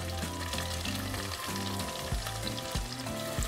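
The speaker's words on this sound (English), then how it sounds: "we're going to add our chopped onion, serrano, and minced garlic." Chopped onion, serrano pepper and minced garlic sizzling loudly in melted butter and oil for Mexican white rice, a dense, steady crackle with occasional stirring scrapes, close up and without voices.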